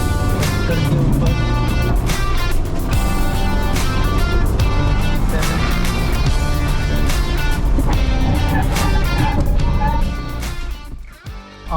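BAIC BJ40 SUV on a brake test roars loudly with a steady, hard-driven engine and road rush that holds for ten seconds, then abruptly drops and fluctuates as the vehicle slows.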